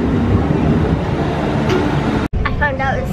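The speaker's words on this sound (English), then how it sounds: "The train is here." A train pulls in at a studio tour attraction with a steady rumbling roar of wheels and movement, broken by a brief dropout, followed by squealing, wavering tones as it slows.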